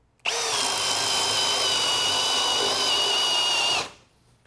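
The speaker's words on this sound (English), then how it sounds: "It's going to pull this drill down into the material." A power drill fitted with a self-feeding bit bores into wood in one loud, steady whine lasting a few seconds, starting abruptly and winding down at the end, with no talk.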